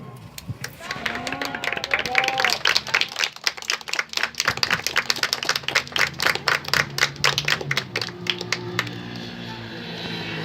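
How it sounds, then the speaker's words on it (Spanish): Audience applause following a told children's story, sharp individual claps in a steady patter that thins out toward the end, with voices and children's chatter mixed underneath. "Hay que darle otro aplauso a Susana"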